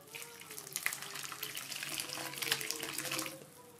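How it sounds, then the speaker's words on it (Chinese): Hot seaweed and egg drop soup pours from a pot into a bowl in a continuous splashing stream, close and steady for several seconds. "最后我们把它倒入到碗中"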